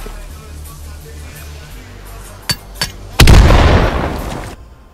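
In Battalion 1944, a grenade explodes with a loud close boom and a rumbling decay, preceded by a couple of sharp metallic clinks and a low engine-like drone.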